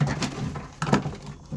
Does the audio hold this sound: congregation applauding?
no